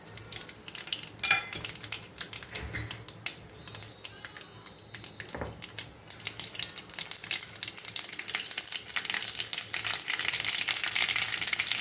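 Mustard seeds sizzle and crackle in hot oil in a pan for chutney, a dense steady hiss with scattered sharp pops that swell louder toward the end, no talking.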